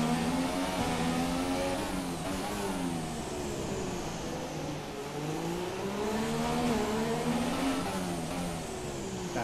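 A Formula 1 car in F1 2017 accelerates at Monaco in the rain, its high-pitched engine whining up and down through gear shifts in a loud, continuous drone.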